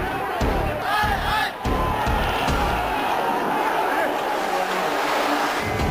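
A protest crowd shouts at a sit-in in Delhi, a loud, dense roar of many voices with rhythmic chanting and thumps at the start, then a steady mass of shouting.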